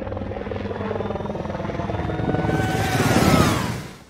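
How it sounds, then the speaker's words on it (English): Helicopter in a Splatoon 3 Salmon Run trailer flies by with a loud chopping rotor drone that swells to a peak near the end and then fades, alone without voices. "when the helicopter flies by, there seems to be someone exclaiming in either excitement or panic"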